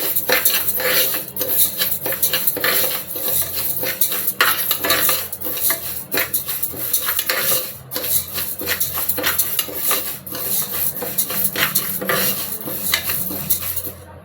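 Moong dal is fried and stirred in a metal pressure cooker: a continuous, loud scraping and clinking of a utensil against the pot over a faint sizzle, with no voices.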